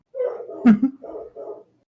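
A dog gives a few short, rough barks and whimpering yips in quick succession, fairly close and moderately loud.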